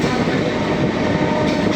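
The first passenger train between Krishnanagar and Amghata, an inaugural special, rumbles steadily and loudly along the rails, with a constant wheel-and-carriage roar throughout.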